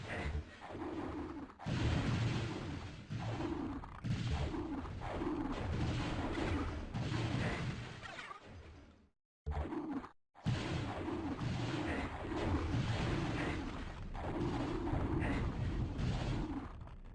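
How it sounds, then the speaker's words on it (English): Enemy projectiles burst into shrapnel in the first-person game Hexen, heavy booming blasts and crackling debris repeating loudly and densely across the span, broken by one brief gap of silence. "their projectiles explode into shrapnel after they land"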